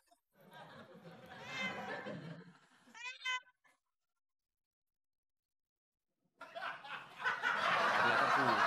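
A cat gives a short, high mewing call in a brief gap between stretches of close talk and laughter.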